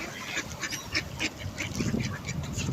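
Goosander duck calling outdoors, a run of short rasping quacks repeated in quick irregular bursts over soft background noise.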